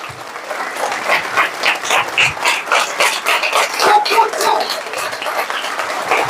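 Audience at a leadership training session claps in lively, uneven waves, with bursts of clapping rising and falling, and voices mixed in beneath.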